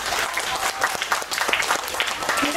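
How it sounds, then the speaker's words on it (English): A round of applause at a Supa Strikas prize ceremony: dense, steady clapping from a crowd that fills the whole moment, with a few voices calling out over it. "I think we should give him a round of applause."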